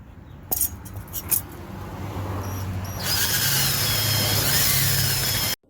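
A few light metallic clinks, then a power drill with a bigger bit spins up on a 2008 Chevy Impala's rear brakes, running loudly and steadily before cutting off abruptly.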